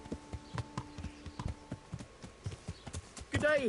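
Horse hooves clip-clopping at a steady walking rhythm in the video game Kingdom Come: Deliverance, close by, ending with a short vocal sound near the end.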